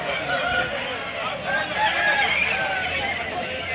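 Chickens cluck and crow amid a busy outdoor din at the weekly Saturday poultry market in Akki Rampura, with people talking throughout.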